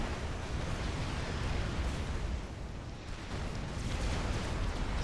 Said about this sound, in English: So here we go, T1 PD opening up and shredding units.